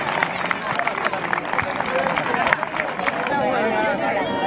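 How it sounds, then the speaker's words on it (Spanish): A crowd claps and cheers at a youth football tournament trophy ceremony for the Real Club Celta champions, dense applause mixed with chatter and shouts, loud and close, continuing without a break. "Un aplauso"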